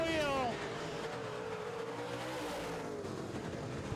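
Modified race cars run wheel to wheel toward the finish, one engine note sweeping down in pitch as the cars pass, steady loud motor roar with an announcer's voice over it.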